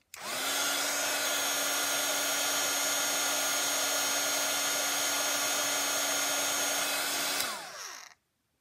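A craft heat tool blowing hot air onto paper, a loud steady whirring blower with a constant hum held for about seven seconds before it switches off and winds down.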